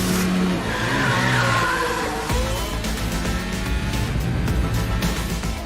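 Formula 1 race cars roar past on track, engines screaming loud and close with tires skidding and squealing, the whine carrying steadily throughout.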